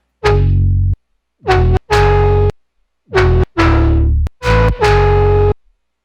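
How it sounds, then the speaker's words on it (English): A bass synth with guitar distortion plays separate sustained notes, each swelling from a muffled tone into a buzzing, gritty crunch as the low-pass filter opens, with short silences between phrases. "you can really hear the guitar distortion coming in once the thing opens up there"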